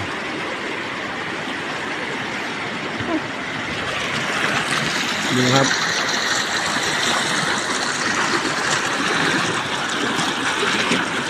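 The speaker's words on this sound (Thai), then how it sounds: "เมื่อคืนฝนก็ตกแรงน้ำไหลเชี่ยวเลย" A fast-flowing stream, swollen after heavy rain, makes a steady, loud rushing wash that runs the whole time while someone speaks briefly over it.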